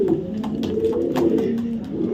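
Racing pigeons coo in a steady low murmur, several birds close by with overlapping throaty calls and no talking.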